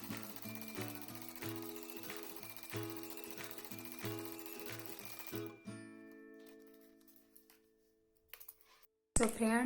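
A sewing machine stitches a salwar hem in quick, evenly spaced pulses with a steady motor hum, close and moderately loud for about five seconds before stopping, followed by quiet and a final knock.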